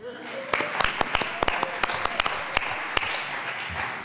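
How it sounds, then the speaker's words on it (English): Applause in a state House gallery greeting visiting schoolchildren, a loose scatter of claps that rises quickly and holds for a few seconds under a room's murmur. "a round of applause for the kids from Parker Core Knowledge Charter School"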